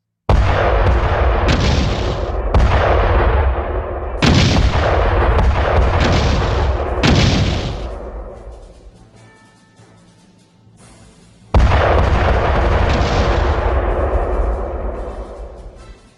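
Enemy gunfire in a simple student-made video game, heard as loud, heavy booming shots in bursts that repeat, with a quieter gap in the middle before the firing resumes strongly.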